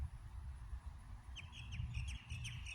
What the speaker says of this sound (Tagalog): Ayun, ang ibon.